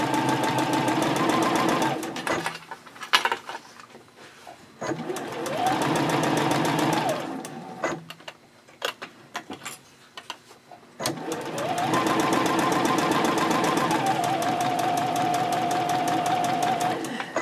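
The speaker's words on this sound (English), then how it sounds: "I'm going to start basting the two layers of the gusset together 1/8 of an inch away from the edge" A sewing machine basts two layers of a fabric gusset for a mini backpack card holder, running in long steady bursts with short pauses between, close and loud, the motor hum rising and falling as it starts and stops.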